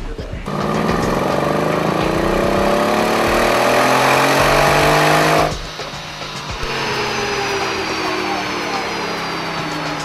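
A Mercedes E63 AMG S with its hand-built 5.5-liter twin-turbo V8 revs on a dyno, a loud rising engine roar that cuts off abruptly, then settles into a lower steady drone.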